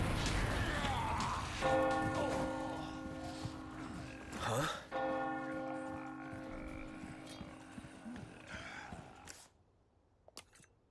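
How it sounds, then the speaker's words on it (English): A church bell tolls in Resident Evil 4 during the chainsaw demo, two long resonant rings with sustained humming overtones over a dark ambient game backdrop, fading out near the end. "at least now that they're going towards the bell"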